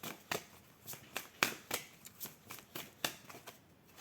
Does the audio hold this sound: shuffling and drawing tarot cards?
yes